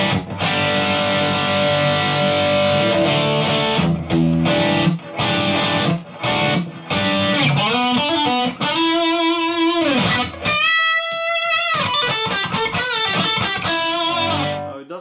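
Electric guitar run through a Kemper amplifier profile with tube bias at its maximum of 10, playing choppy distorted chords with gaps, then sliding single notes and a sustained bending lead line, loud and close.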